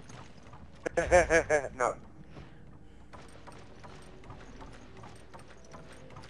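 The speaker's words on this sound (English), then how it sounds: "Click, click, click, click. Sound like a horse. It's exactly like a horse." Horse-like clicking of hooves in the video game Resident Evil 5: a loud, rapid burst of clip-clop knocks lasting about a second, then a quieter game background with faint activity.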